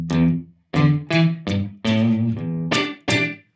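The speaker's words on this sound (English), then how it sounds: "this is a clean guitar tone with zero reverb" Dry, clean electric guitar with no reverb, a series of separate strummed chords and plucked notes, each stopping abruptly into silence, played close and alone at a moderate pace.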